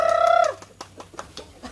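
A chicken in a rural Philippine province lets out a short squawk, followed by several quick clucks and pecking-like chirps close by.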